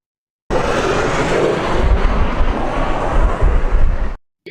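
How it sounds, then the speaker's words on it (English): A loud, roaring jet-engine truck blasts continuously for several seconds with rumbling wind-like noise, then cuts off abruptly. "it's like the sound of the jet goes with the truck perfectly."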